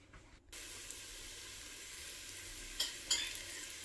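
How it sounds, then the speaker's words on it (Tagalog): Garlic and onion sauté in a hot pan with a quiet, steady sizzle, a couple of brief stirring scrapes standing out near the end. "naggisa na tayo ng sibuyas sa kabawang"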